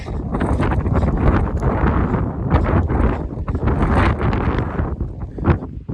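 Strong wind roars and buffets the microphone on a high Sangre de Cristo mountain summit in Colorado, loud gusting blasts rising and falling throughout, no voices.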